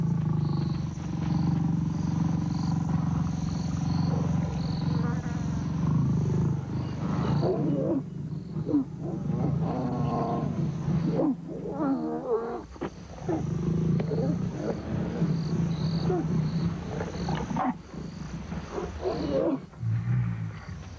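Lions mating in the African wild, with deep, rumbling roars and growls from the pair rising and falling close by over a steady low throb, punctuated by sharper snarling bursts.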